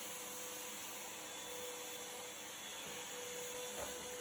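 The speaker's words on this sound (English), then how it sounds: "I'm going to vacuum" A vacuum cleaner runs in a home with a steady, even whine and hum, fairly quiet and unbroken, with no one talking.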